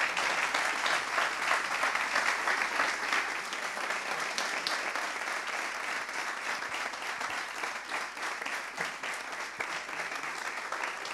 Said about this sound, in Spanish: ¿Qué significa no solamente ese escudo, sino ese público de pie aplaudiendo, José María?